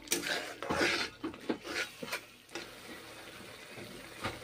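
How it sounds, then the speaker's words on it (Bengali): Chicken kadai masala stir-fried in a pan, with irregular scraping and clinking of a spatula against metal over a soft sizzle, busy at first and then thinning out. "কাঁচা গন্ধ থাকবে না ততক্ষণ কষে নিচ্ছি।"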